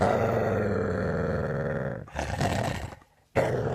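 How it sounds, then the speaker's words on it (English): A mongrel dog growls and roars in a deep, rough, sustained snarl, loud and close, breaking off briefly and then starting again. "And here's the dog."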